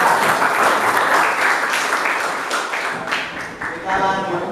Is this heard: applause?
yes